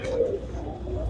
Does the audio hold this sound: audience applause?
no